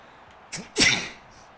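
One person sneezes during a football video game match, giving a short sharp intake followed by a loud burst that fades quickly, heard close and alone.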